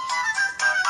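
Short electronic jingle plays from an Angry Birds game loading on an LG Optimus C or Huawei Ascend smartphone held in a car mount, bright tonal notes in two quick bursts, clear and close.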